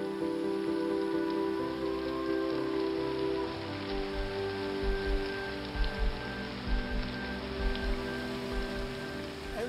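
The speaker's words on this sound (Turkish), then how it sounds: "Evliya Çelebi de benim gibi Temmuz ayında bu camiyi ziyaret etmiş ama bu şiddetli yağmurdan hiçbir zaman bahsetmemiş" Heavy rain falls at a mosque in Mostar, a dense steady patter on hard surfaces with occasional heavier splashes and drips nearby, with no talking.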